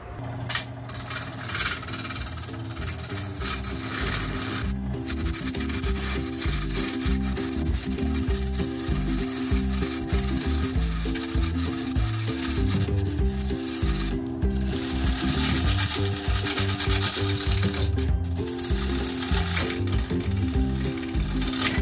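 Carbide tools hollowing out the inside of a large, very hard eucalyptus wood bowl on a lathe give a steady, loud scraping and rubbing drone that runs without pause, with brief dips in the cut.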